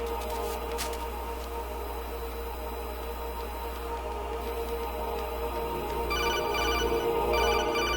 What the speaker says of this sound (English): More phone calls.